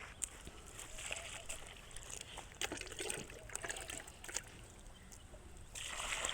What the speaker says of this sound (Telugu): మా పాప నీళ్ళు పోతుంది